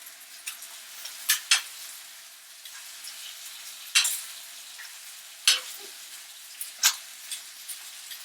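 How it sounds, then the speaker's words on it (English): Thick bacon renders in a hot cast iron pan with a steady, close sizzle, broken by sharp pops and crackles of spitting fat scattered through the whole stretch. "over here, we're rendering our bacon for the last egg that we're going to cook."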